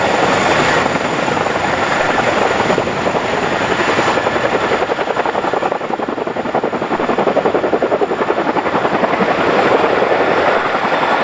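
A Boeing CH-47 Chinook twin-rotor helicopter flies RAF display manoeuvres at an airshow, a loud, continuous, close rotor roar and engine whine with a rapid chopping pulse that holds steady the whole time.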